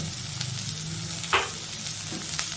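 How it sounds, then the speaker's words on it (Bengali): Chicken for a Cantonese-style dish fries in a pan with salt, a steady close sizzle broken by a brief scraping stir and a few light clinks. "একটু নাড়াচাড়া করে নিয়ে এবার এটা আমি ঢাকা দিয়ে দিলাম।"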